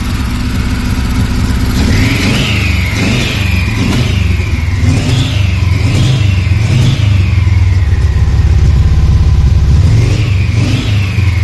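A Subaru-swapped Volkswagen T3 van with a turbo engine revs loudly and close up, the throttle opened in a series of sharp, rising bursts over a steady idle rumble.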